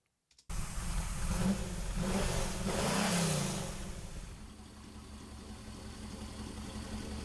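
A dark blue and beige Chevrolet convertible muscle car starts up and revs its engine close by, a loud throaty rise that peaks and then settles into a lower, steady rumble.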